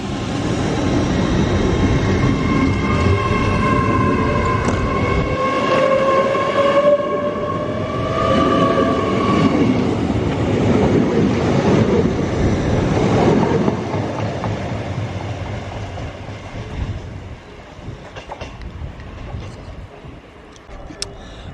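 A train pulls away and accelerates off toward Lincoln, its engine and wheels rumbling loud and close, with rising tonal whine and rail clatter that gradually recede; occasional voices talk alongside.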